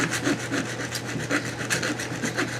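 A file and rasp work back and forth along the rough edges of a vinyl knife sheath, a steady run of close, scratchy strokes repeating about every quarter second with no talk.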